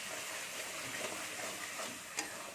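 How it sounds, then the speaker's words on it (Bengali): Spice paste sizzles and spits in hot oil as it is stirred, a steady dense crackle running throughout with scraping strokes and one sharper spatter near the end; nobody speaks. "দেখুন মশলাটা ফুটছে, মশলা থেকে কেমন তেল ছেড়ে দিয়েছে। আমি একটু ঘেটে নিচ্ছি।"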